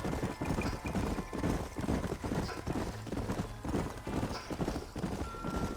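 Horses gallop in Red Dead Redemption, a dense, continuous drumming of hooves with occasional whinnies, loud and close throughout.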